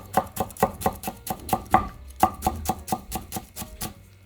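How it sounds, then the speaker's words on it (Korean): Rapid knife chopping of Cheongyang chili peppers on a cutting board, a steady run of sharp, close taps at an even rhythm with no talking. "청양고추를 조금 다져서 넣을 건데요"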